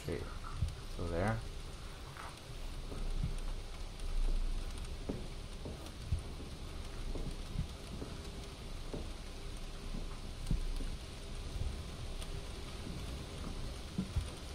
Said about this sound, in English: Still raining outside.